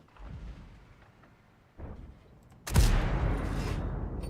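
A heavy tank cannon shot booms out in a World of Tanks-style game with the Badger tank destroyer, a sharp loud blast followed by a long rumbling roar after quieter background battle noise.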